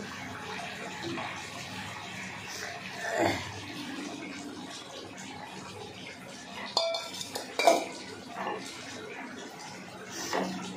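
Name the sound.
adding fried prawns to the vegetable curry in the pan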